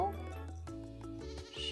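Sheep bleats from the farming video game Coral Island, a short quavering bleat at the start over soft game music, quiet and close.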